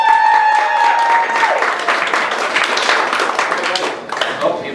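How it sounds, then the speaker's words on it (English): A comedy club audience claps and cheers to welcome a first-time stand-up comedian to the stage. A brief high whistling tone rings over the start, and the applause stays steady before tapering near the end. "the applause has"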